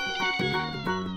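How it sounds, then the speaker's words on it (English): A cat gives a single drawn-out, tonal meow, close and clear, rising and wavering over about a second with no talking. "Cat."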